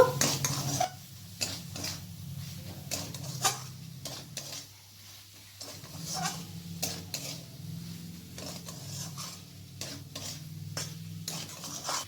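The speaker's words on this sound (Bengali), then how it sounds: "ওলগুলি দিয়ে আবার 1 মিনিটের মতো নাড়াচাড়া করে নেব।" Fried yam (elephant foot yam) pieces being stirred in a pan on the stove, with repeated scraping strokes of a spoon against the pan and a soft sizzle underneath, steady and close, with no talking.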